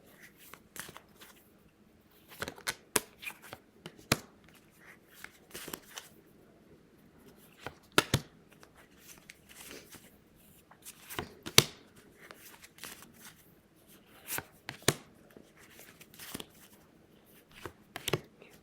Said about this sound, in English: But let's go ahead and pull cards here.